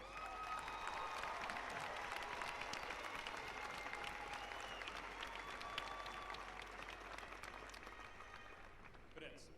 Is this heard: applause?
yes